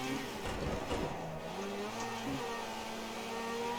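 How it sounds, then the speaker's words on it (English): A race car drifts in Project Cars 2, with a revving engine, pitch sweeps rising and falling, and tyres squealing through the slide. The sound is continuous and fairly close. "I'm really drifting out here"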